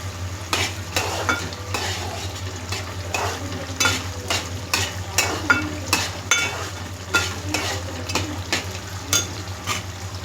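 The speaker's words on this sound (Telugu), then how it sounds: "గోంగూర పచ్చడి తాలింపు కూడా అయిపోయింది." Tempering for gongura pickle sizzles steadily in a pan as a spoon stirs and scrapes in a regular rhythm, close and loud with no talking.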